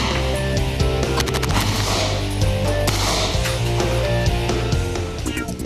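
Rapid video game gunfire, dense bursts of shots over a loud continuous game soundtrack, steady and close throughout.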